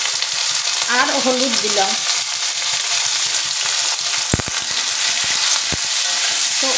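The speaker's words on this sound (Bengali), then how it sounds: "এবার আমি চিংড়িগুলো ভেজে নেব। তেলের মধ্যে দিয়ে দিলাম।" Prawns frying in hot oil with salt and turmeric, a loud, continuous sizzle close by with a few sharp knocks of a utensil on the pan and a brief spoken line over it.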